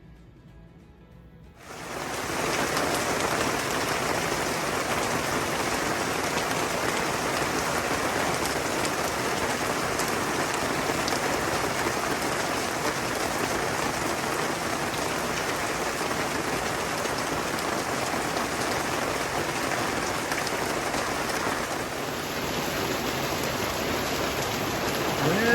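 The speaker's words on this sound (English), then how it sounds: "the afternoon summer rain showers caught up with us" Steady summer afternoon rain shower in a Louisiana state park campground, coming down hard in a dense, even hiss that starts abruptly and holds loud and unbroken, with no voices.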